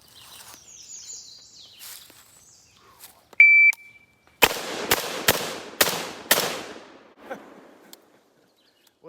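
Five loud, sharp PTR 91 rifle shots crack in quick succession at close range during a 5-yard shooting drill, preceded by an electronic timer beep.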